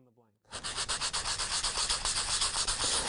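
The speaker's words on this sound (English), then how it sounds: "If I take the white side of my reliefing block and sand away, it removes some of the oxidation on the higher level of the blank." A metal blank being sanded with the white side of a reliefing block after embossing, a steady close scratchy rubbing with rhythmic strokes that begins after a brief voice and continues to the end.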